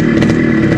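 Yamaha RD135 two-stroke motorcycle engine revving on a cold start after flooding, a loud, steady buzzing drone held throughout with slight throttle swells.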